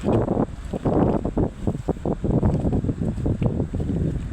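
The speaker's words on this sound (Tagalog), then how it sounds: "Siyempre, ayan, yung breeze ng hangin." Steady wind buffets the microphone in gusty, rumbling pulses on a beach, with a faint hiss like water or waves in the background.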